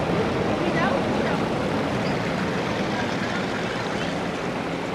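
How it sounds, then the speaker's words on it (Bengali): Fountain running in a colourful amusement park in Bangladesh, a steady, loud broadband rush of splashing water that fills the whole clip without pause, with faint murmur of people in the background. "ঝর্ণাটা চালু করা আছে।"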